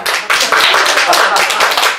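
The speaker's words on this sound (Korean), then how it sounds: "이거 박수 쳐야 되는데" Clapping from a meditation-centre audience at a Buddhist teaching session, a steady patter of many hands filling the short moment, fairly loud and close.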